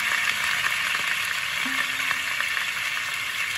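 Potatoes for aloor dum fry in a pan with a steady, even sizzle that runs unbroken at moderate level, with no voice and only faint clinks.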